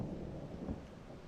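Thunderstorm in the Silent Hunter III submarine game, a faint low rumble of thunder rolling under steady rain at a distance, with no voices.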